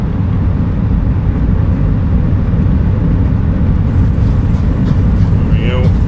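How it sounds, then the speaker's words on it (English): Steady roar of an airliner's thrust reversers after landing in Microsoft Flight Simulator 2020, a continuous loud rumble that holds level throughout, with brief faint tonal chirps near the end. "Reversers are out."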